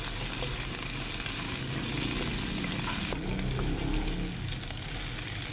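Ginisang munggo, a mung bean stew with pork and vegetables, sizzles and hisses in a pan as bagoong alamang shrimp paste is sautéed, a steady close frying sound with faint stirring.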